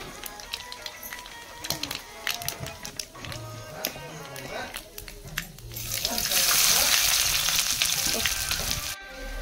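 Onions frying in oil with bay leaf for a besan and potato curry: a soft crackle under a talking voice at first, then a louder, hissing sizzle that swells near the end.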